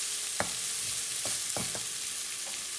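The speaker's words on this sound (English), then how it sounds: "This one you're going to move around because you don't want it to burn." Chopped garlic frying in a pan for Puerto Rican asopao de pollo makes a constant hiss, with a few short utensil scrapes and taps as it is stirred.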